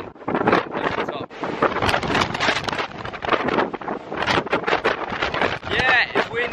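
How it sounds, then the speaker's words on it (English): Gusty wind buffets the microphone near the top of Lion's Head in Cape Town, loud irregular rumbling blasts that surge and fade throughout, with people talking under it. "It's windy."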